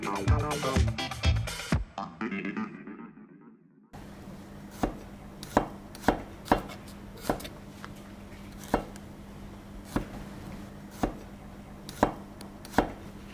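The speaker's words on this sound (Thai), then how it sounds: "ไก่นะคะหั่นชิ้นเล็กๆ" A knife chops raw chicken into small pieces on a cutting board in a slow, uneven series of sharp knocks, close and clear, after a brief burst of music.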